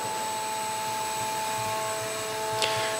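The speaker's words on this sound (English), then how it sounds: "There is your vacuum blower." Vacuum blower on a Kundig 53-inch duplex wide belt sander, a steady droning whoosh with a faint low rumble and thin tonal whine, plus a short click near the end.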